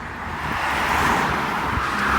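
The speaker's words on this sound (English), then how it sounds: "See, there's a lot of cars over here." Cars drive past on a busy street, a loud, continuous rush of tyre and engine noise close by, with one vehicle swelling past and no voices over it.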